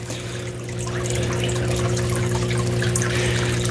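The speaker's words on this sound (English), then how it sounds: "And this is just recirculating the water." Water pumped through a recirculating sluice box for fine gold, with a steady trickling, pouring flow over a constant low pump hum, continuous and fairly close, no talk.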